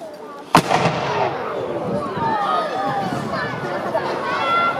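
A single sharp, loud blast from an Elizabethan black-powder cannon fired at a castle pageant rings out early, followed by a long rumbling tail under crowd chatter and voices.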